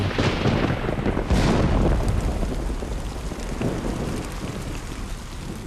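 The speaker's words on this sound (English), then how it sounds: "The thunderstorm does hold me back a little, but it's still quite a way away." A distant thunderstorm rumbles over the woods, a continuous broad wash of rain-like noise with a low, steady roll that eases slightly toward the end.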